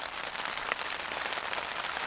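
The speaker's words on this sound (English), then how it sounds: "11 o'clock Saturday, it's just started raining." Steady rain patters densely on surfaces at a January bushcraft camp in West Yorkshire, a constant close hiss with a few sharper drips and no voices.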